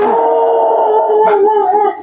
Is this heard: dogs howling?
yes